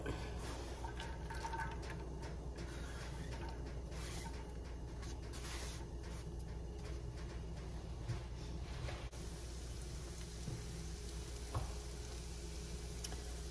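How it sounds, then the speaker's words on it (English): Onions sizzle and crackle steadily in butter in a hot pan, close up, a continuous frying hiss with faint ticks and no talking. "And now we've started sizzling."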